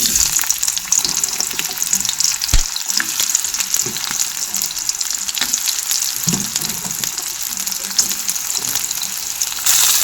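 Close, loud sizzling comes from chopped onion, green chili and garlic frying whole in a pan, a dense crackling hiss with occasional spoon scrapes and knocks, no voices over it.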